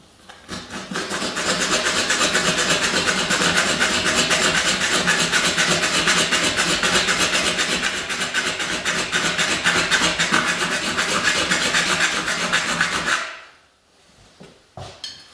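A saw cuts model railway track steadily and loudly for about thirteen seconds with a rapid, rasping rhythm, then stops abruptly, leaving near silence with a few faint knocks.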